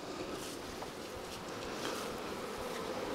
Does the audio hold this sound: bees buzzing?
yes